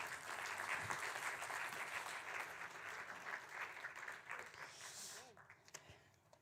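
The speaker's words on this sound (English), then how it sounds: "Give her a warm applause." Lecture-hall audience applauding a philosophy lecturer on free will with steady clapping that tapers off near the end, while a voice talks over it.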